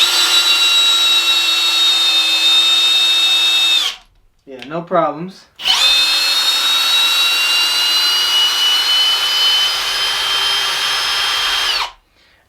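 A Kobalt cordless hammer drill runs in drill mode in two long, loud, steady bursts with a high whine. A brief pause between the bursts holds a short spoken remark.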